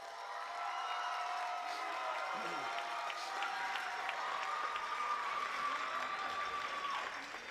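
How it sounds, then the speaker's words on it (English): An audience applauding at a student talent show in a theater, sustained dense clapping from a large crowd throughout, with faint cheers mixed in. "Let's just give a big round of applause for everybody."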